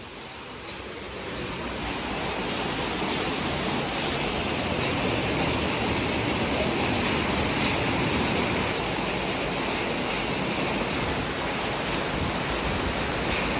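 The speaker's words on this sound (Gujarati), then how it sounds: "આમ જો વરસાદ આવે એ બતાવ." Rain falls steadily outdoors in Ahmedabad, a dense, even hiss that swells within the first seconds and then holds at a constant loud level with no voices.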